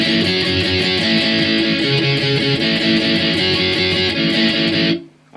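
Loud, dense distorted electric guitar riff from a song, played as strummed chords in a steady driving pop-punk rhythm for about five seconds before cutting off abruptly.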